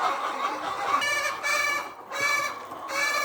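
Hens on a farm clucking and cackling in a busy flock as their feed is brought out, a steady chorus of close, overlapping calls with no talking.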